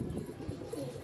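Pigeons, including Israeli and magpie breeds kept in a loft setup, coo softly in low murmuring tones, a close continuous rumble of several birds over about a second.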